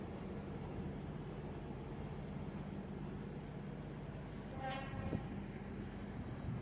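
Class 159 diesel multiple units 159003 and 159011 depart Exeter St Davids station, a steady low rumble and engine drone with a brief rising tonal whine, heard at moderate distance under a constant background hum.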